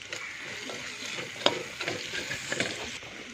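Potatoes with ginger garlic paste sauté in a pan, making a steady, close sizzle with stirring scrapes and a few louder clatters throughout.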